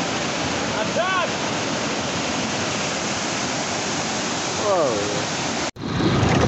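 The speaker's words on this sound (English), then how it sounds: "today I wanna take you on an epic trip to the waterfall" A village waterfall rushes in a loud, constant broadband roar, with brief voices rising over it twice before a sudden cut near the end.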